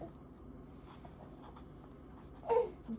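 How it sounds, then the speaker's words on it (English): A fountain pen with Diamine Chocolate Brown ink scratches faintly across paper, a soft, continuous close-up scrape with a couple of slightly louder strokes near the end. "So maybe I'll write"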